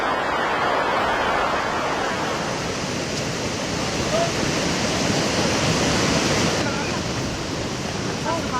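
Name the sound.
swollen river rushing after a cloudburst in Sahastradhara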